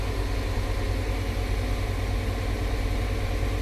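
CAT 950H wheel loader with a C7 engine idling close by, a steady deep diesel rumble with even vibration and no change in pitch.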